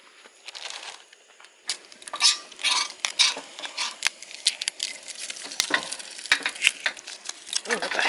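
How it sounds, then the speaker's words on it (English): Steaks sizzling in a pan over an open campfire at a lakeside campsite, a steady crackling fry with scattered sharp clinks and scrapes of cookware, fairly close and moderately loud. "And we're going to cook the steaks in here."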